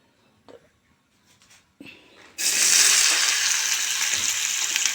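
Hot tempering (tadka) poured for red lentil dal hits with a sudden loud sizzle after a few soft kitchen clicks and knocks, then hisses steadily and strongly to the end.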